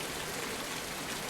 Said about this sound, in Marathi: सिंधुदुर्ग जिल्ह्यातील दोडामार्ग तालुक्यात मुसळधार अवकाळी पाऊस